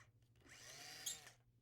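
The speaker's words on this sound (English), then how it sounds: "Using a hand drill, we drill the pilot holes with a 1/16 inch bit" A hand drill fitted with a 1/16 inch bit bores pilot holes for back-panel screws on a cherry wood wall mirror, giving one short, steady whirring burst that swells briefly near the end before winding down.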